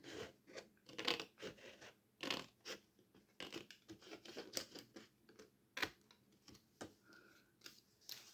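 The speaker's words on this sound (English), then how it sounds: "I will take my scissors this end and again cut out the score line" Quiet, close snips and clicks of scissors cutting along a score line in card for box making, coming in irregular bursts with short pauses between cuts.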